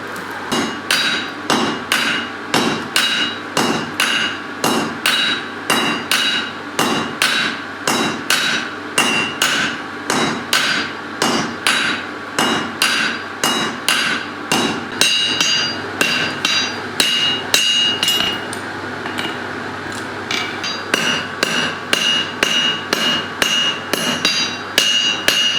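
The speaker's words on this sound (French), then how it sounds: "on va attaquer à 2 marteaux, gentiment, pour créer cette lame" Two hammers work a hot Damascus blade in a steady, ringing rhythm of metallic strikes, close and loud, as the steel is drawn out with only brief pauses.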